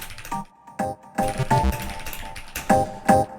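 Clicky keystrokes tapped out in short irregular bursts with brief pauses between, fairly close and moderately loud, with no talking over them.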